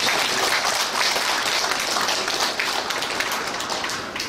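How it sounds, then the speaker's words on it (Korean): A crowd at a church New Year gathering breaks into loud, sustained applause, many hands clapping together and slowly tapering off. "박수 좀 쳐봐야 되겠다."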